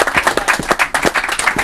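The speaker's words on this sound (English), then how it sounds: "First of all, give yourselves a round of applause." Members of a football team clapping for themselves in a room, a short burst of fairly close, loud, rhythmic applause from a small group.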